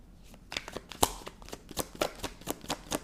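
Cards for a card reading are shuffled close up, a quick run of crisp riffling snaps and flutters coming in a steady rhythm with no voices.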